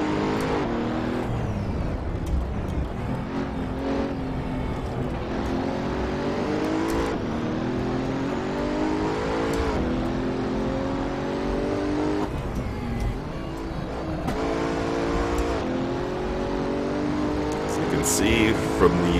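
Pagani Huayra engine in the Assetto Corsa racing game at the Nordschleife, revving hard through repeated upshifts, each rising whine cut by a brief gear-change dip, loud and close, with occasional faint tire noise.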